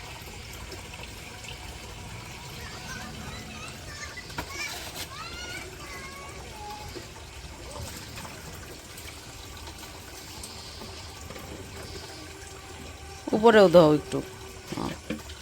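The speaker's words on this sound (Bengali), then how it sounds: "আইতাছে উমর আর আনাস কলে ওই কলে হাত পাও ধুইতেছে" Water runs from a village tap while two young boys wash their hands and feet, a steady wash of flow sitting beneath children's and adults' talk, with a louder splashing burst near the end.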